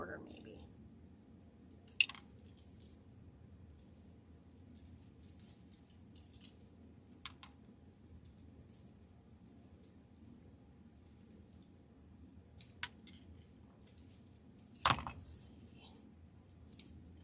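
Scissors cut through material for a large flip-flop summer wreath, giving a few sparse, faint snips spread over a quiet background.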